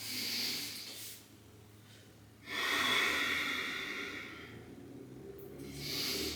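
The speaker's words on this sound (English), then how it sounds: "The breathing, that exhale helps engage the abs." Soft breathing during a mat Pilates abdominal exercise, with breathy exhales and inhales rising and falling in a slow rhythm, close and quiet, without talk.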